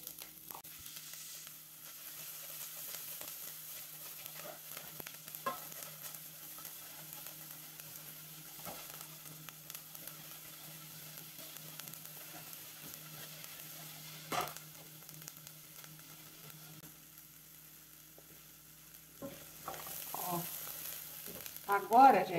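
Chopped onion frying in a pan and stirred now and then, a low steady sizzle running throughout with occasional soft scrapes, louder toward the end.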